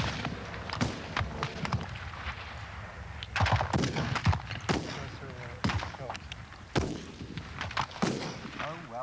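Rifle shots crack out at a target shooting practice, several sharp reports spaced irregularly through the clip, fairly close, with faint background activity between them.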